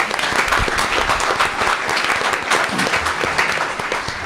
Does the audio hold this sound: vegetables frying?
no